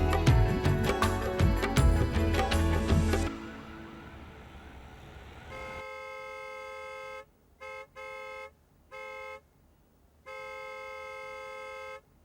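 A new car's horn honks in a series of short and longer blasts, loud and close, after a stretch of loud music fades out.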